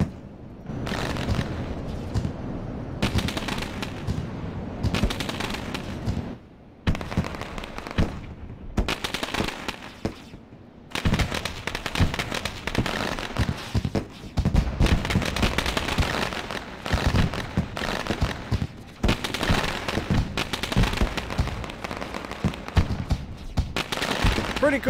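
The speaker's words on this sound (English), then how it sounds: "Here comes the fireworks." Fireworks burst over a dirt track during the International Dirt Association Summer Sizzler Pro Late Model race night, a dense, loud, continuous barrage of cracks and booms with brief lulls and faint crowd or commentary voices underneath.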